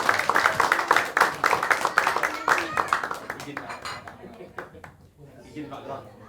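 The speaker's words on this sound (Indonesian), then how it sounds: "berikan tepuk yang sangat luar biasa" Audience clapping and applause at an Indonesian business opportunity meeting in Bekasi, a steady burst of many hands that thins out and fades toward the end.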